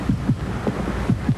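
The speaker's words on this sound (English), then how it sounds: "I can hear my heart beating." A steady heartbeat thumping low and muffled, several lub-dub pairs in an even rhythm over a dull, rumbling background.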